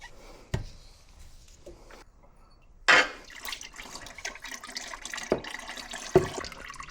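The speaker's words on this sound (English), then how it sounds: "The oil's still dripping, so we'll give that a few more minutes" Motor oil dripping from a Volvo XC90 during an oil change, scattered irregular drips and splats, fairly close over a quiet background with a few sharper impacts and no talk.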